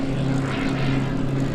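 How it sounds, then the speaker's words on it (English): A Fokker Dr.I triplane flying at the Sywell airshow, its propeller engine giving a steady droning buzz with a strong low hum, loud and close for a brief moment with no talk. "the Fokker triplane is one of the most famous planes ever built"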